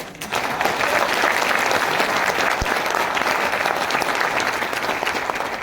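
An audience claps at a motivational talk, sustained dense applause that starts almost at once and holds steady and loud throughout, with no speech over it.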